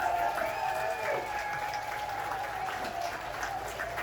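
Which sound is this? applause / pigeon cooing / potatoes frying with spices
applause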